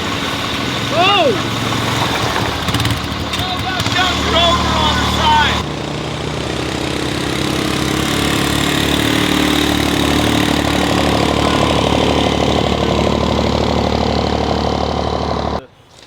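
A truck's diesel engine rumbles steadily at idle, close and fairly loud, with people talking over it early on before the engine drones on alone.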